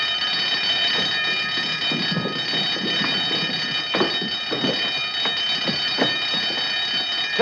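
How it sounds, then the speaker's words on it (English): A steady alarm bell rings without a break through an indoor scene from a 1952 film noir. Faint rumbling and knocks sit under the constant ringing. "Turn off the alarm."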